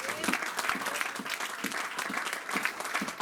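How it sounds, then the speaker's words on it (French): A church congregation applauds after a sermon, with many hands clapping together and loose rhythmic accents, fairly close, plus a few voices mixed in. "Donnons une acclamation."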